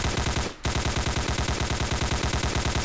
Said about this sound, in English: Stop firing blindly at the...